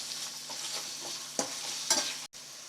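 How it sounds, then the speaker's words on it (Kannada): Ginger garlic paste stirred in a hot frying pan, a steady sizzle with scraping strokes of the spoon, close and alone. "ಸ್ವಲ್ಪ ಶುಂಠಿ ಬೆಳ್ಳುಳ್ಳಿ ಪೇಸ್ಟ್ ಹಾಕೋತಾ ಇದ್ದೀನಿ ನೀಟಾಗಿ ಹಸಿ ವಾಸನೆ ಹೋಗುವವರೆಗೂ ಮಿಕ್ಸ್ ಮಾಡ್ಕೊಳ್ಳೋಣ"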